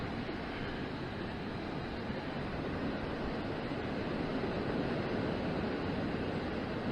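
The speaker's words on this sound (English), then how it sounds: "Fairly windy." Strong wind blows outside a Fiat Ducato campervan, a steady broad rushing roar that holds at a moderate level throughout with no talking.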